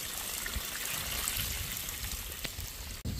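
Water flushing debris out of a water well after hydro-fracking, a steady, loud rushing gush that runs continuously, broken by a brief dip near the end.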